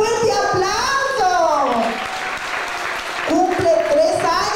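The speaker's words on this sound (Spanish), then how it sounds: "¡Un fuerte aplauso!" A crowd at a child's third birthday party applauds loudly and steadily, with an adult voice calling out and children's voices mixed in over the clapping.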